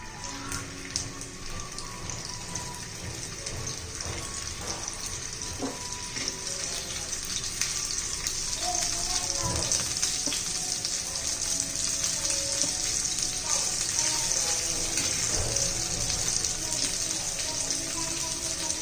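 Kothimbir vadi, coriander fritters, frying in hot oil in a pan, a steady dense crackle and sizzle that holds throughout and grows slightly louder after the first few seconds, close by with no talking.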